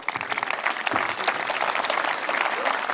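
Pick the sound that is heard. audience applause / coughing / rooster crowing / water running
audience applause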